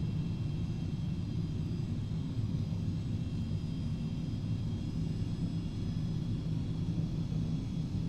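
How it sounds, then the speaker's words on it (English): Carenado 390 Premier 1A business jet taxiing in X-Plane 11, a steady low engine rumble with a faint high whine that holds constant throughout, with no talk. "it's a fun way to taxi through the airport"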